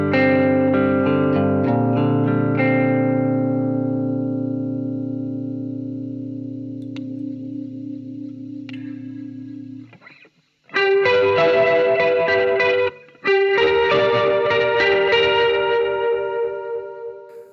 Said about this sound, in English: the intensity of the reverb and sort of the speed of the rotary speaker simulation